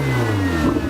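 A Ferrari 488 GTB sends a brief, sharp engine rev through its titanium exhaust, a full-bodied rising snarl heard up close for about a second with no talking.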